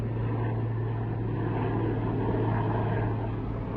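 A steady, droning rotor and engine roar from a large helicopter taking off just beyond the trees, constant in level throughout with no talking.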